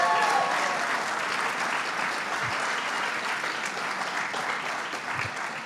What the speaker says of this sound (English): Let's give them a round of applause for getting it done.